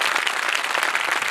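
Church congregation applauding together during an Urdu sermon, a steady dense wash of clapping sustained at even loudness throughout.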